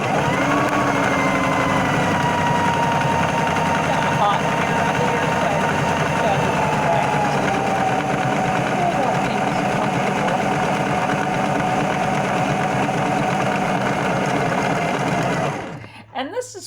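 A sewing machine runs in one long steady whir with a mechanical hum, close and fairly loud, stopping abruptly near the end.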